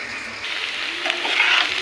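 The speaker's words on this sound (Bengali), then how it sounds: "বারবার কিছুক্ষণ পর পরে কিন্তু আমরা ঢ্যাঁড়স ভাজিটা নেড়ে চেড়ে ভাজি করবো" Okra fries in a pan with a brief, steady sizzle and faint stirring, close and moderately loud, with no talking.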